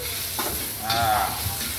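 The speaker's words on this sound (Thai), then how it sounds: "ตั้งกระทะให้น้ำมันร้อนๆใส่กระเทียมลงไปพัดก่อนครับ" Garlic stir-frying in hot oil in a wok, a soft steady sizzle with a few light scrapes and stirs over about two seconds, fairly quiet and with no voices.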